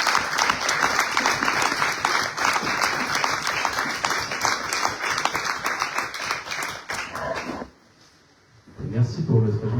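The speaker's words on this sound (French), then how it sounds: "on peut les applaudir" Audience applause for children judokas fills most of the stretch with dense, steady clapping, then cuts out to near silence before a brief voice or sound returns at the end.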